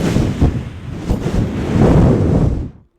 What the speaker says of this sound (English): as the storm continues to rage.